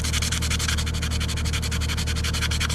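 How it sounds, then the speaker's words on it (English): Sandpaper rubbed by hand across small aluminum tags makes a rapid, steady run of harsh scratching strokes, loud and close throughout with no pauses. "Hopefully that scratching on the metal's not blowing your eardrums out."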